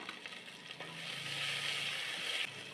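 Onions, mint and coriander fry in a pan for mushroom biryani, a steady close sizzle that swells and holds, with a few stirring scrapes before it cuts down near the end.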